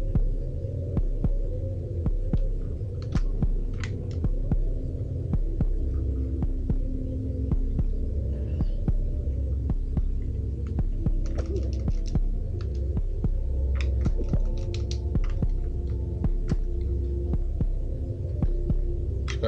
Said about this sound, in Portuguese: a batida do coração